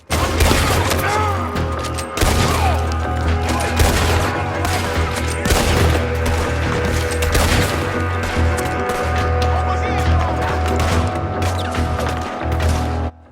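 Rapid, loud gunfire from a Lancaster repeater rifle in Red Dead Redemption 2, shots cracking in quick succession over a steady low rumble of battle, with overlapping reports and no pauses for the full stretch.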